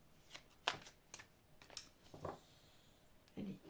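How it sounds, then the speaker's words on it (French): Angel oracle cards are shuffled and drawn by hand, giving a few separate quick riffles and soft slaps at close range, with quiet pauses between them. "je vais prendre une carte des anges de l'amour"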